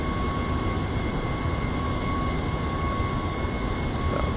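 MD-11 cargo jet taxiing in the X-Plane 12 flight simulator, a steady loud engine rumble with a constant high whine that never changes, heard from on board with no talk.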